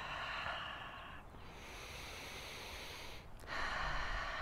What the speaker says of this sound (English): I'm putting my attention in my body and breathing into my chest right here and all the way down, down, down, down here